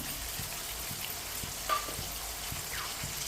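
Diced potatoes and finely chopped tomatoes fry in a pan for a pulao, a quiet, steady sizzle with soft scattered crackles and one brief clink.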